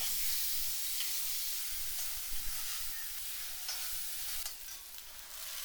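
Chopped large onions and green chillies sauté in hot coconut oil in the pan just used to fry fish, giving a steady close sizzle and hiss with occasional stirring scrapes, and no one talks.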